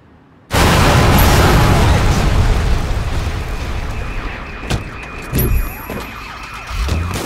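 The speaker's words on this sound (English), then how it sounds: "a little too much C4" In Sleeping Dogs, a C4 charge goes off suddenly with a loud, close blast whose roar slowly decays, and a car alarm begins wailing in repeating tones as the rumble fades.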